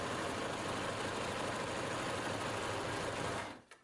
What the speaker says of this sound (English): we're going to keep it lined up on this edge and sew all the way down this side